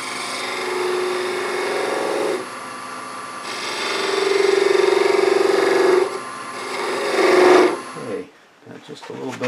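Wood lathe spinning an acorn box a little above 1200 rpm as a skew chisel trims a bead, a steady whirring hum with a scraping, rasping cut that swells and eases over several passes, ending with a brief rustle.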